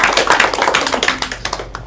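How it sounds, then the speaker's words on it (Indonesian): A classroom group claps together during a microteaching geography lesson, a quick run of close, dense hand claps that thins out and fades within a couple of seconds. "Minta tepuk tangan buat semua."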